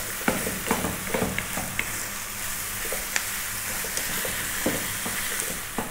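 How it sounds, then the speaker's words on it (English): Ground veal and beef fry over lively heat in a pan, a steady sizzle broken by frequent scraping stirs and occasional spoon taps, close and alone. "we're going to go for 4 to 5 minutes now on this lively heat and cook this down. Stir quite often now."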